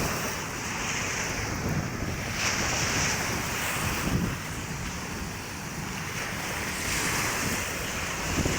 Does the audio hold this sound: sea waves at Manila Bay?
yes